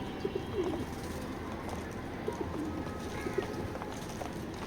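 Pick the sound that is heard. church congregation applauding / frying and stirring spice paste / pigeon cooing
pigeon cooing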